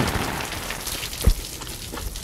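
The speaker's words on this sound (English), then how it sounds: "I'm filling up water from my roof when it's raining" Steady rain falls onto a roof and patters into a collection setup, a dense continuous hiss with a brief louder splash or knock partway through, with no voices.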